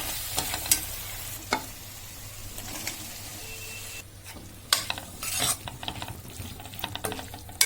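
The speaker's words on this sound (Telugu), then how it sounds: "ఇప్పుడు మనం క్యాప్సికమ్ వేసేద్దాం" Chopped capsicum goes into a hot pan with green gram curry and is stirred, with soft sizzling and repeated sharp scrapes and clinks of a spoon against the pan.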